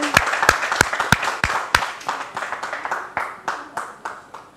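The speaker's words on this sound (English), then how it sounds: "Give her a round of applause, please." A small audience at a reality-show task claps, giving sharp, separate handclaps in an uneven rhythm that thin out and soften as the applause dies away.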